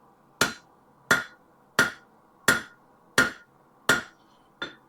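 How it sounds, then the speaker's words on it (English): Hammer blows on cold, blackened steel flat-jaw tongs, seven sharp ringing strikes at a steady pace of roughly one every two-thirds of a second, close and clear with no talking. "Ordinarily, I would never hammer a piece of steel that is this cold"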